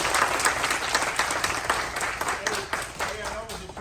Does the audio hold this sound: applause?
yes